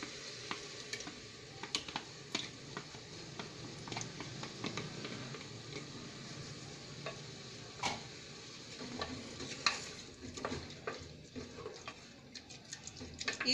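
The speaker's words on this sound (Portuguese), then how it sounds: "Vai dar uma refogadazinha aqui na nossa linguiça." Sausage sautéing in a pan, a quiet soft sizzle broken by scattered clicks and scrapes of stirring, with no talking.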